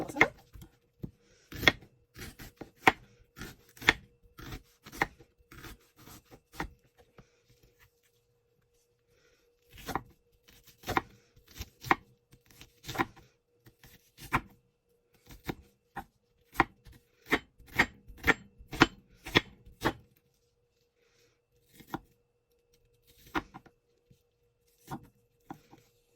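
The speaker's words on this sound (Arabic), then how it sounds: "نبدا نقطع البصل باي طريقه زي ما انا قلت لكم، لا كبير ولا صغير" Onions being chopped with a knife on a board: steady, crisp, close knocks in quick runs, broken by short pauses, with no talk.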